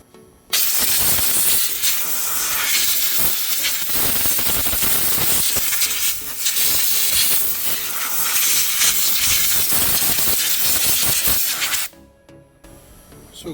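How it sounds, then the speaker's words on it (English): Compressed air blasting rust and brake dust off the rear brakes of a Mercedes C-Class W204: a loud, steady, broadband hiss that runs unbroken for about eleven seconds, then cuts off abruptly. "Try to clean this with air, compressed air, because there's going to be a lot of rust."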